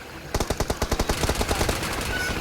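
Rapid automatic gunfire from a shooter video game, a burst of about a dozen loud, evenly spaced shots, then a denser clatter of fire fading into a noisy backdrop.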